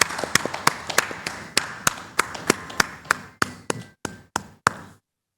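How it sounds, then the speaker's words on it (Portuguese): Sharp, evenly spaced handclaps ring out close by at a podcast recording in Angola, roughly a dozen crisp slaps in a slow steady rhythm that stop abruptly, with no talk over them. "Até merece uma salva de palmas."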